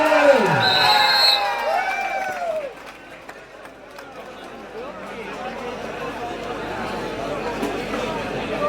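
Excited crowd noise at a Kerala tug-of-war match, loud shouting and cheering near the start that settles into a steady roar of chatter and calls for the rest.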